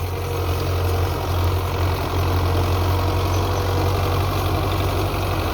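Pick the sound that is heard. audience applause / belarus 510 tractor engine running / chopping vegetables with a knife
belarus 510 tractor engine running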